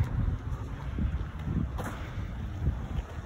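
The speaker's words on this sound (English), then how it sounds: "Flag's waving, Russ, that's windy" Steady low wind rumble buffeting the microphone at an outdoor football ground, with gusty swells throughout and a faint high whine in the background, no voices.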